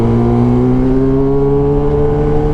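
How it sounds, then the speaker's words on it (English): A motorcycle exhaust rumbles loudly and steadily with a rising pitch, its deep tone echoing off nearby buildings. "just listen to that exhaust bouncing off these buildings"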